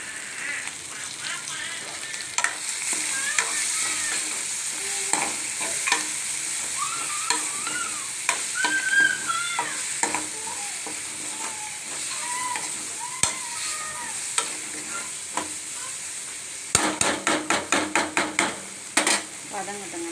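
Carrots and chili sautéing in a pan for carrot chutney, a soft steady sizzle with occasional stirring scrapes and a quick run of sharp taps near the end, no one speaking.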